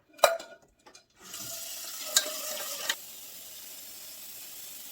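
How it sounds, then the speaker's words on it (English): Cold tap water pours from a kitchen faucet over freshly boiled hot eggs while making potato salad. A couple of light knocks come first, then a steady, moderately loud rush of running water that drops to a quieter hiss. "Put some cold water on them so I can work with them."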